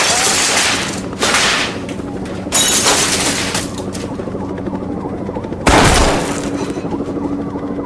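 Gunfire in a school library, heard as several loud booming shots over a constant dense rumble of chaotic background noise, with one especially heavy blast near the end.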